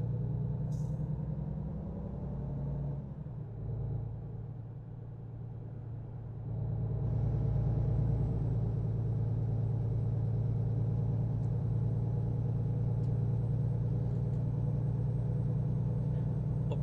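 A truck engine in American Truck Simulator strains uphill with a deep, steady rumbling drone that dips briefly, then swells louder and stays heavy and continuous, close up and with no voices.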